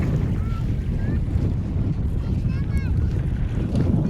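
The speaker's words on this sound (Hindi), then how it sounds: "इतनी तेज़ हवा चल रही है कि आपको मैं क्या बताऊँ" Strong wind buffets the microphone beside Pangong Lake in Ladakh, a constant loud roar with waves lapping at the shore and a few faint high bird-like chirps.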